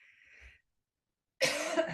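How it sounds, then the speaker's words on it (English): A single close cough from a woman, one harsh burst following a short quiet gap, alone. "I'm going to go ahead and cough here again because I was feeling fine."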